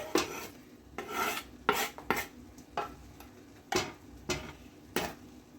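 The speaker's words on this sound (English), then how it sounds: "And then continue on chopping our broccoli." Repeated knife chops through broccoli on a cutting board, sharp irregular strikes about once per second, close and fairly quiet, with no talking.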